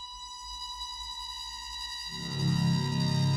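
Creepy metallic tones from a Saw soundtrack piece, pitched up and sampled from an ER track: steady ringing high tones that swell into a louder, denser low rumble partway through, with no voices.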